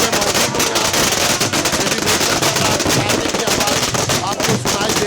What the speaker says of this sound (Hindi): पटाखे फोड़े जा रहे हैं यहाँ पर